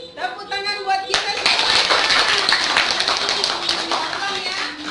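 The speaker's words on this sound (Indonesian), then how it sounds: "Tepuk tangan buat kita." Schoolchildren at an elementary school clap their hands together in a loud, dense burst, entering sharply after a short stretch of talk and carrying on steadily to the end.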